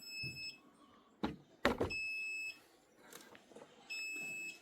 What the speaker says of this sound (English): That is why the alarm is going off, because I'm under voltage.